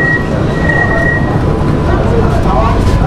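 Steady loud rumble inside a moving air-conditioned local train running from Sealdah to Ranaghat near Kolkata, a continuous roar with a thin high whine, and voices talking over it throughout.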